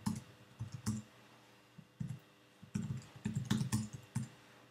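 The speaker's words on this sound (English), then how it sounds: "So if I just type my name into there." Keystrokes on a computer keyboard while entering a name on a Mac, irregular bursts of close clicks and taps over about five seconds, with no talking.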